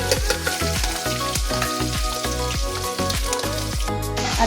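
Curry leaves, green chili and ginger-garlic paste sauté in hot oil with a loud, steady sizzle, broken by rhythmic scraping strokes of a spoon stirring the pan about twice a second, close and with no voices.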